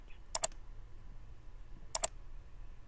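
Two pairs of sharp computer mouse clicks, one pair near the start and one about two seconds later, close and crisp over a quiet room hum.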